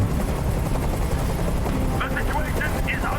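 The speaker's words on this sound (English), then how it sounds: "I can't stand that noise anymore. Tell that helicopter to get out of here." A helicopter hovers nearby in the video game Detroit: Become Human, a dense, loud rotor rumble filling the scene while voices talk over it and brief higher sounds rise near the end.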